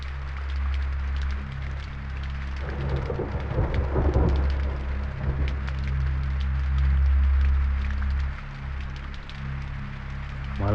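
Heavy rain pours steadily through a film scene, a dense continuous roar with low rumbling thunder beneath, swelling louder midway and staying close and enveloping throughout.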